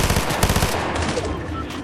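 Rapid automatic gunfire from the Fortnite video game, a burst of quick repeated shots in the first second that gives way to a softer tail, heard up close.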